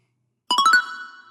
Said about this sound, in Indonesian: setiap pesan masuk nanti akan muncul notifikasi